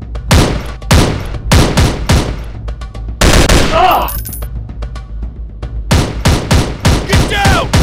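Rapid bursts of video game gunfire from enemies, loud and close, in clustered volleys with short pauses, mixed with shouted voice lines and effects.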